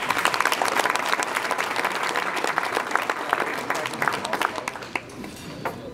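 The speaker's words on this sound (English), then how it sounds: "So let's give them a round of applause." Sustained, fairly loud applause from a banquet hall crowd at a college winter and spring sports banquet, an even dense clatter of many hands that tapers slightly near the end.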